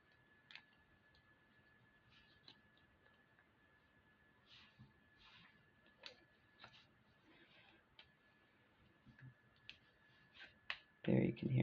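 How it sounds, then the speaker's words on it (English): Scissors are sharpened with a sharpener: faint, brief metallic scrapes and clicks spaced out over quiet room tone, ending in a few louder, harsher rasping strokes close by. "so this is a sharpener. Let's see if we can"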